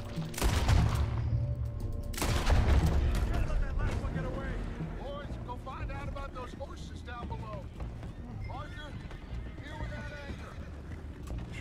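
Gunfire in Red Dead Redemption 2 cracks out in a couple of loud bursts near the start, mixed with horse whinnies and hooves while voices talk over the action.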